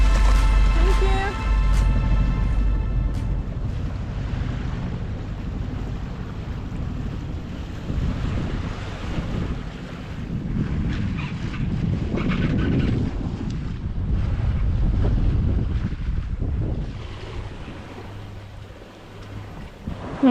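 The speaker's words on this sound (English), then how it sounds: "The wind's picking up a bit now" Wind rushing and water sloshing aboard a sailboat underway in a moderate breeze, a steady broadband wash with gusty swells and wind buffeting the microphone throughout, fairly loud and close.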